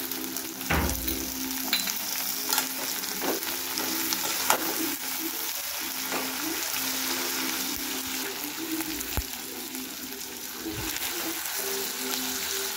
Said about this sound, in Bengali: কুচানো লঙ্কা হালকা করে ভাজতে হবে